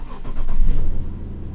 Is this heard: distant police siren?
no